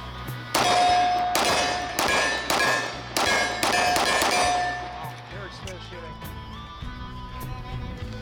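Shots from a Wilson Combat X-TAC Elite Commander custom 1911 pistol, about six loud sharp reports fired in a quick irregular string at close range, with ringing tails, then a quieter stretch with faint talk.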